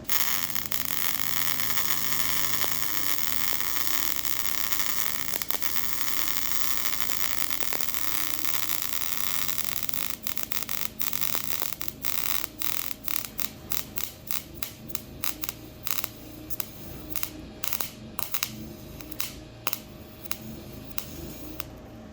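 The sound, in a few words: flux core MIG welding arc on sheet metal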